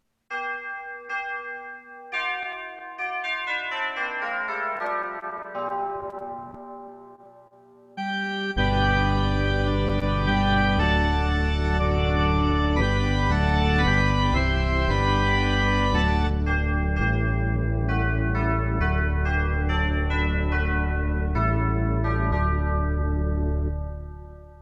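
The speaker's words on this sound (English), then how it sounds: "It has the pipe organ and the big chimes." Bridal Chorus is played on a pipe organ with big chimes, opening with ringing bell-like chime tones before a loud, sustained full organ takes over with rich held chords, alone and without talk.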